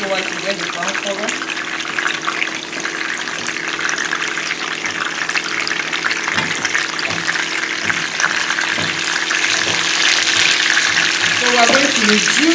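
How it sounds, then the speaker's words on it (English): Chicken pieces fry in hot, well-spiced oil on a low gas flame, giving a steady, close sizzle with soft crackles throughout. Light stirring and occasional low voices sit underneath. "So we're going to just fry it maybe for about 2-3 minutes."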